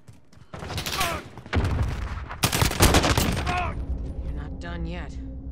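Loud Call of Duty: Modern Warfare gunfire comes in several heavy bursts of rapid shots, with brief gaps and booming impacts between them, under game voices and radio chatter.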